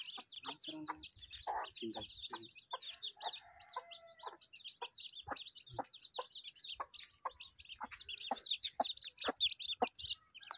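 Native country chickens cluck repeatedly up close while high chirps from chicks peep constantly, with a few faint voices in the background.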